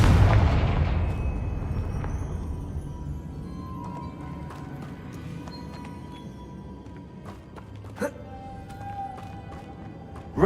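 A Confringo blasting spell in the Hogwarts Legacy video game erupts with a loud, booming explosion right at the start, its rumble decaying over several seconds into quieter ambience with a few faint clicks and thuds afterward.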